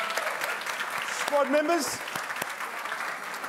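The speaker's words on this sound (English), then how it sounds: "Big round of applause" Audience applause at a netball awards night, a steady crowd clapping that runs throughout while a presenter speaks over it.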